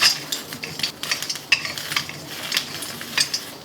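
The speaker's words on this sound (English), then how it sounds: "Now we'll add few cherry tomatoes." Cherry tomatoes cooking in a pan with roasting ginger and garlic: irregular stirring clinks and scrapes of a spoon against the pan over a soft, quiet sizzle, no talking.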